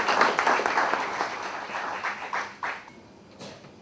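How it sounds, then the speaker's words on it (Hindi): An audience at a university department orientation program applauds, the clapping fairly close and lively at first, then thinning to scattered claps that fade out within a few seconds. "जोरदार तालियां बजाएं"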